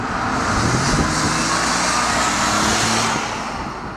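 Jaguar XJ L 2014 with a six-cylinder turbocharged engine accelerating, a loud steady engine roar that holds for about three seconds and then eases slightly, with no talking.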